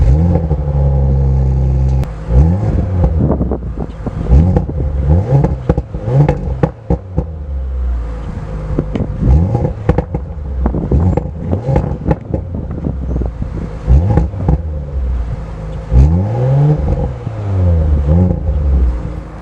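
A 2019 Audi RS5 with its V6 engine runs loud and close, revving repeatedly in sharp rising and falling bursts over a rough idle, with brief pauses between throttle blips and no talking.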